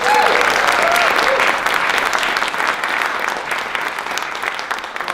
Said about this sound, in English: I want to give to you a round of applause for Matt too